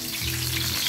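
Large-cut onions fry in a pan for miso sinigang, a loud, continuous hiss and crackle of hot oil close up, with a low hum underneath.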